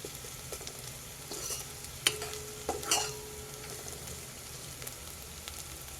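Ginger and garlic frying in a pan, a low, quiet sizzle broken by a few sharp spatula scrapes and clinks.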